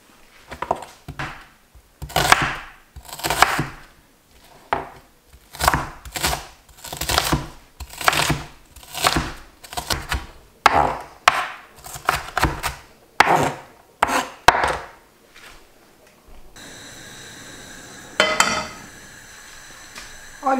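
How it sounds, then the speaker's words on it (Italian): Knife chopping banana peels and half an onion on a board, a run of rapid rhythmic cuts in bursts, close and crisp, before a short quieter stretch with a few scrapes. "Sminuzzo proprio un attimo con il coltello"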